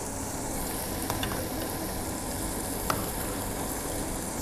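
Fish for pescado a la Veracruz frying in a pan, a steady close sizzle that holds evenly throughout with a couple of faint clicks and no voices.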